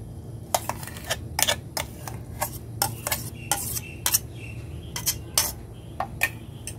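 A spoon clinks sharply and repeatedly against a pot while mashed mango is stirred into a pudding mixture, giving irregular close metallic taps over a low background hum.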